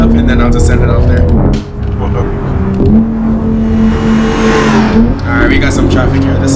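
A BMW 3 Series engine in the Assetto Corsa driving game revs hard and steadily, with crackling exhaust pops and shifts in pitch, loud and continuous while someone talks over it.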